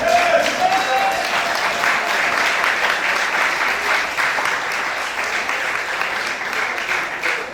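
A church congregation bursts into sustained applause, loud and dense, steady clapping filling the room for several seconds with some crowd noise mixed in.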